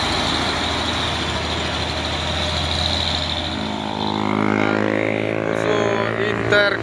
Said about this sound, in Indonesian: Dan ada truk sawit.